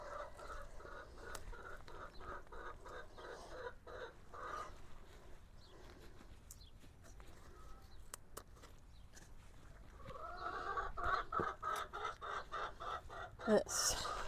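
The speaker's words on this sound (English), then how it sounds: "Sorry for the chicken noises." Backyard chickens cluck and murmur close by beside a spring vegetable garden, a long steady run of calls that grows louder and busier toward the end, with a little talking mixed in.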